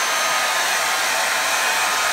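An Arçelik hair dryer blows on a child's hair, giving a loud, steady, unbroken whoosh of motor and airflow close by for the whole stretch, with no voices.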